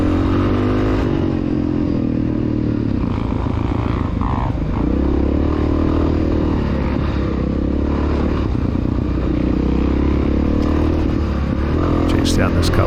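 A 1993 Honda XR600R dirt bike engine labouring on a climb during a cross-country race, a steady loud drone with clattering from the track, continuous for the whole stretch, with a voice speaking over it.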